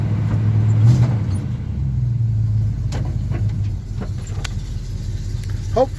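A 1975 Chevy C10 pickup truck idles and rumbles as it is driven slowly to park, its engine note steady and close with a few clicks and knocks later on.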